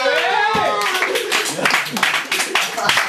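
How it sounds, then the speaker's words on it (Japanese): A live audience at a comedy performance gives a short burst of applause, with crowded clapping that rises and thins out while a voice keeps talking over it. "拍手。"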